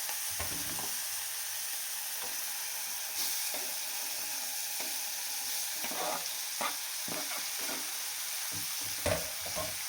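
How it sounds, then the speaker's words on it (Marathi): Onion sautéing in oil in a pan, a dense continuous sizzle close by, broken by repeated stirring scrapes and soft knocks of a spoon against the pan. "कांदा पण छान गोल्डन कलर होईपर्यंत परतून घ्यायचा तेलामध्ये"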